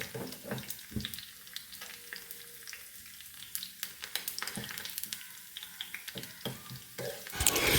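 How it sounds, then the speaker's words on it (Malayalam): Steady crackling and sizzling of frying in coconut oil, close and continuous with sharp popping bursts throughout and no voices. "ഇതിൻ്റെ പൊട്ടൽ നിന്നാൽ വെള്ളം വറ്റിയെന്നർത്ഥം ആ പൊട്ടൽ നിൽക്കൂട്ടോ"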